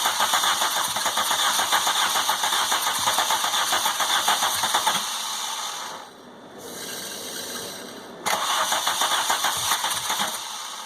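A VW Golf GTI MK2 converted to motorcycle carburetors cranks with a loud, close, rapid starter rhythm that pauses for about three seconds before cranking resumes, with no talking.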